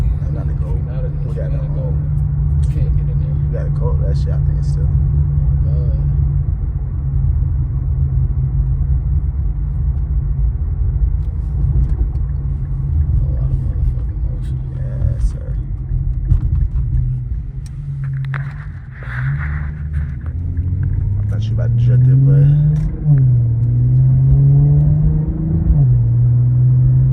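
An Infiniti Q50 3.0T is driven at night through a downtown area, its engine a steady low drone beneath continuous talk from the occupants, with rising rev sweeps near the end.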